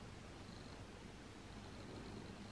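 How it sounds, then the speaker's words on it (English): A contented cat purrs steadily and softly throughout while getting an ear massage. The purr is a low, continuous rumble close to the mic, with no talking. "He's purring."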